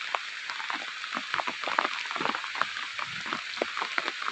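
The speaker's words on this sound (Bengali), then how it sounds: "কি বৃষ্টি নামছে।" Heavy rain pours down steadily, a dense close hiss with scattered drops spattering on a hard surface throughout.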